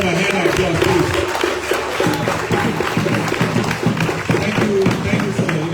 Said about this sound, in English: Let's give them a hand of applause, please.